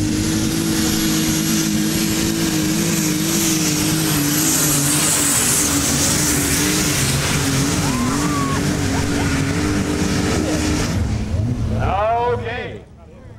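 A modified pulling tractor with a DT 466 International Harvester engine, three turbochargers and methanol fuel roars loudly and steadily for about twelve seconds, then drops away abruptly. Higher whining tones waver over the engine.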